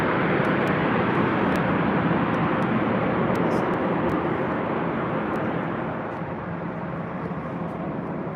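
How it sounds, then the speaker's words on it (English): A Boeing 787 Dreamliner at London Heathrow airport makes a loud, steady jet roar that fills the whole stretch and eases off slightly toward the end. "Beautiful aircraft from the 787,"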